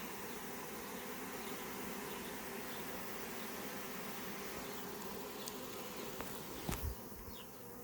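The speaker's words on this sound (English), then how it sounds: "that's one successful swarm" A honey bee swarm gathered in a tree gives a dense, steady buzz that fills the whole clip, with a brief louder flurry near the end.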